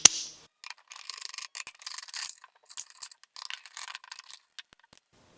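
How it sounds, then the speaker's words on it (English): A 4 mm Allen key turning out fender screws on a Triumph Speed 400 or Scrambler 400X motorcycle, with a sharp click followed by quick, irregular metallic ratcheting and scraping, close and dry. "Four millimeter Allen removes these 3"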